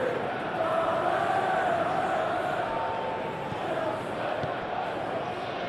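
A football stadium crowd in a PES 21 match between Chelsea and Manchester United roars in a constant broad wash, swelling slightly at times, with commentary voices running over the top.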